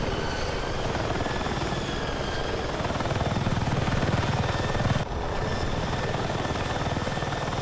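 A military helicopter in Battlefield 6 flies with a loud, steady rotor thump and engine roar that holds constant throughout, with a brief dip near the end and no speech.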